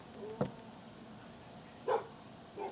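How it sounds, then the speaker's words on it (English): Several dogs bark a few times at a distance, three short separate yaps spread across a quiet background. "Stupid dogs."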